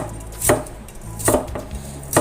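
Chayote squash is cut on a cutting board with a knife, giving three sharp, close chops spaced about a second apart over a quiet room background.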